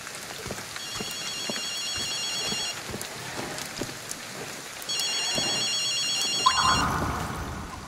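A payphone rings in the video game Ghostwire Tokyo, with two long bursts of shrill electronic bell trills over a steady rain-like ambience, the second burst louder.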